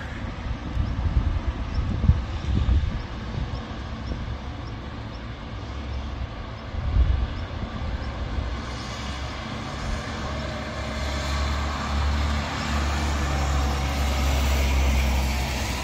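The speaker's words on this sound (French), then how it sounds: "Heureusement qu'on a le vent qui ramène la neige en vallée" Storm wind gusting and blowing snow through a valley near Grenoble, a continuous loud roar with swelling gusts and heavy rumbling buffeting close to the microphone.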